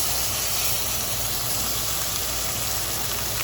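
Steak searing in olive oil in a hot pan, a loud, steady, close sizzle with broadband hiss that holds constant throughout.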